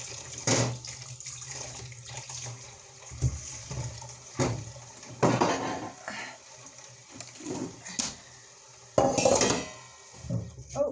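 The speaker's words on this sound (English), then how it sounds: "So I'm just doing that now, just pouring some water in" Water poured from a tap into a bowl of pumpkin seeds, with intermittent splashing, clinks of the bowl and rattling seeds in short bursts, close and fairly quiet.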